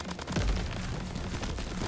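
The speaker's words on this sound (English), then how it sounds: "That's a good use of the exploding barrel." An exploding barrel blows up in the Crab Champions video game, giving a loud, dense burst of booming blasts and crackling gunfire that carries through the whole short stretch.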